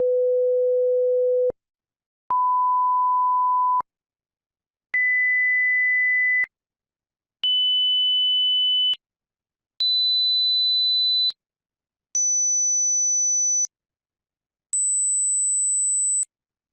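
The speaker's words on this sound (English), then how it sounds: "what we listened to were the pure tone frequencies all at a single volume" Audiometric hearing-test pure tones start at 500 Hz and step upward: seven steady beeps at one volume, each about a second and a half long with short silences between, every one higher in pitch, clean and alone.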